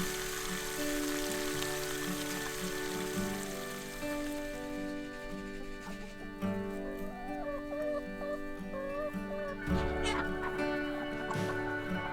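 Ducks quack and chatter near a busy background of steady hum and noise, with calls rising and falling irregularly and no speech.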